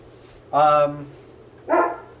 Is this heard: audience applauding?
no